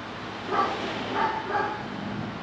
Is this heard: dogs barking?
yes